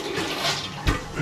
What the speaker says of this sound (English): Little flush.